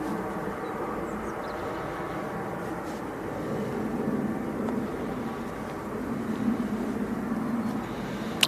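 A Qatar Airways airliner taxis at Manchester Airport, a steady, distant low engine rumble that holds evenly throughout with no voices.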